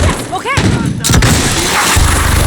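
Gunfire in the Modern Warfare video game mission Into The Furnace, loud bursts of rifle shots and booming blasts in close combat, with a shouted voice briefly over the shooting.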